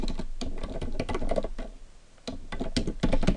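Rapid typing of HTML form code on a computer keyboard, a dense run of close, crisp key clicks with brief pauses, no voice over it.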